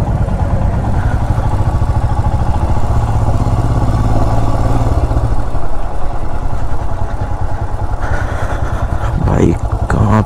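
Motorcycle riding slowly into an immigration permit counter area at the Nepal border, a loud, close, steady engine chug that holds throughout, with a rider talking over it.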